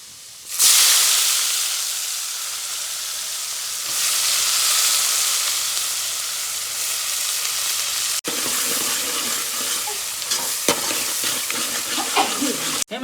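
Onions and green chilies sizzle steadily in hot oil while frying a tempering for urad dal, a loud, continuous hiss with a sharp burst as they hit the pan, followed by scattered stirring clicks near the end.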